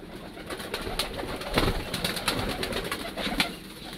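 Lotan pigeons at a morning pigeon farm, soft cooing and fluttering bird sounds continuing throughout at moderate distance, with rustling and a few louder wing or movement bursts.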